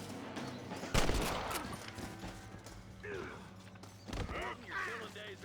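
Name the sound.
gunshots in video game Red Dead Redemption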